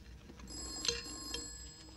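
A telephone rings faintly with a thin, high electronic trill, one short burst in an otherwise quiet room.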